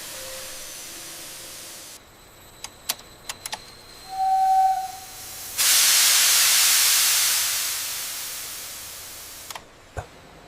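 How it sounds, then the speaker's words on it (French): Steam hisses through rose petals in a perfume distillation still, first a short whistling burst among scattered clicks, then a loud, broad rush of hissing that lasts several seconds before cutting off with a knock. "La vapeur circule à travers les pétales pendant 4h30."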